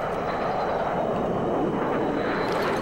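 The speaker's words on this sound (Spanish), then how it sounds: "¿Escuchas algo, no? Un helicóptero." In the Arma 3 video game, a helicopter flies overhead during a night battle, its continuous droning roar steady and fairly loud across the short stretch, with no voices over it.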